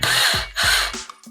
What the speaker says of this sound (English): Drilling my first pilot hole for this bracket.